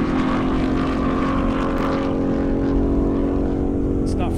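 A Roush car or Kawasaki ZX14R motorcycle racing at an airstrip drag event, a loud, dense engine roar that holds unbroken from start to finish.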